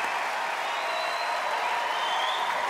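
Audience applause at a pet talent show audition, following a dog's act: a steady, dense wash of clapping from a large crowd, even and sustained throughout with no pauses.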